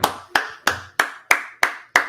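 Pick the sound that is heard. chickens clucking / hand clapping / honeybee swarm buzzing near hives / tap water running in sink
hand clapping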